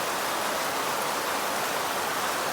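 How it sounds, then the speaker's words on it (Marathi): Heavy monsoon rain pours down in the Konkan countryside at the start of the season, a dense, loud, unbroken roar of water with no pauses and no voices. "पाऊस पण पडतो आहे की तुम्ही बघा, खूप जोरात"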